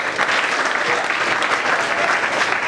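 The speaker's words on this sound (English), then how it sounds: "give the clap to the boy" Students in a school class clapping for a boy, a steady, dense round of applause that holds at an even level from start to finish.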